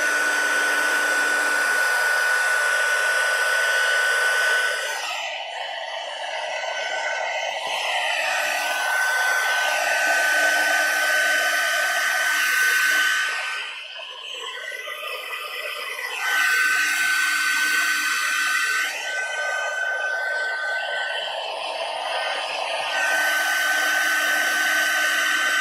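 A heat tool blows hot air to dry a wet medium on an art journal page, a loud continuous whining whoosh that runs steadily with slight dips as it moves around.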